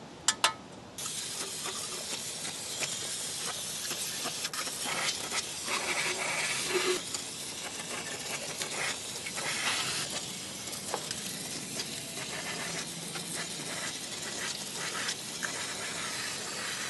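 Brake cleaner is sprayed while a Pontiac Vibe or Toyota Matrix transmission is cleaned during a fluid and filter change: close, continuous airy hissing with uneven surges, after a couple of short sharp clicks at the start.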